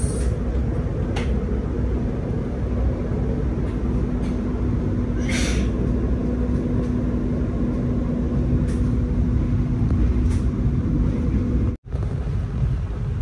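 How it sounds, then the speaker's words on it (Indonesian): The Lodaya executive train rolls into Ciamis station, a steady low rumble and rattle of carriages with wind buffeting the microphone and a brief high squeal partway through. "Kereta api Lodaya telah memasuki stasiun Ciamis pukul 9:54."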